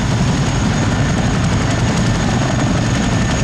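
Royal Navy AgustaWestland Wildcat helicopter flying a display at Cosford Air Show, a loud steady rotor thump and turbine whine, close and continuous.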